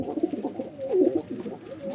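Soft, low coos from a lemon-colored, white-headed pigeon with yellow wing bars murmur continuously in the background, throaty and rolling, with no voices.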